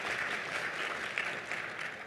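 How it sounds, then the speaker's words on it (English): Applause from a luncheon audience, a dense, steady wash of many hands clapping at moderate volume for a couple of seconds, with no voices over it. "Round of applause."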